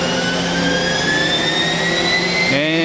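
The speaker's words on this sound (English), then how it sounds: "Okay, spindle is running." Spindle of a Mazak 4-axis machining center running up toward 12,000 RPM, a loud, steady high-pitched whine with rising tones that shift sharply near the end.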